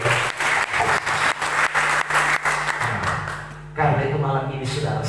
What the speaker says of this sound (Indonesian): Tepuk tangan dulu yang terbaik.